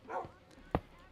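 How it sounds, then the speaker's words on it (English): A single short, loud bark from Peaches, a pet dog, cuts in sharply near the end, preceded by a brief soft whine or yip, with quiet room tone around it. "that's our dog Peaches."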